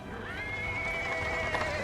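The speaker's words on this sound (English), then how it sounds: "A cart drawn by a sad little horse appears from around the corner." A cart horse in the fantasy video game Pathfinder: Wrath of the Righteous gives a long, clear whinny, with clip-clopping hooves and rolling wheels on paving stones underneath.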